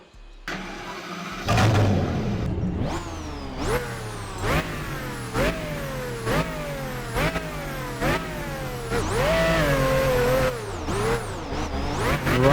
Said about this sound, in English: Take a listen to this car